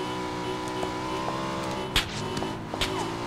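A car engine drones steadily in a PUBG match, holding a sustained hum with a few sharp clicks and knocks on top. No voices are heard over it.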